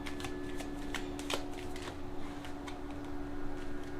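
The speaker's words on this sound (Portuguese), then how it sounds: "Eu vou tirar, vou tentar ver se sai mais duas cartas." Tarot cards drawn from the deck and laid down, with several crisp card flicks and slides over a steady background hum and no talk.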